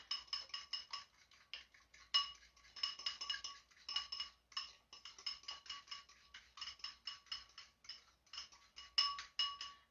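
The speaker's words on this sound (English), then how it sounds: "Then we're going to whisk this up. Get it nice and whisked." A whisk beats ingredients in a bowl for pancakes, making quick, steady metallic clinks and scrapes that come in rhythmic bursts. The sound is close and fairly quiet, with no talking.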